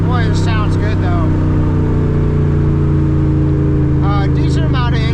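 A Daytona car with a Coyote V8 engine drives along, its low steady rumble running throughout with a rising, whining tone, while someone talks over it at the start and end.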